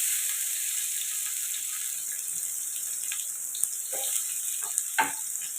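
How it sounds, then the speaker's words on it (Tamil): Onions and green chillies fry in a pan for mutton biryani, a soft steady sizzle with occasional faint stirring clinks and scrapes, quiet and close with no talk. "இதை பொன்னிறமாக வதக்கலாம்."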